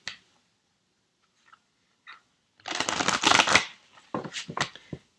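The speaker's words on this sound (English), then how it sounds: "So let's start by mixing the Silver Witchcraft Tarot." A deck of Silver Witchcraft Tarot cards is shuffled close by, giving a couple of quick riffling bursts of papery flutter after a few soft taps, with no talking.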